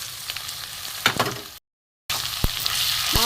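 Spiced lote fish for a chorchori is stirred and fried in a pan, with close sizzling, scraping and sharp utensil knocks broken by a brief silent gap.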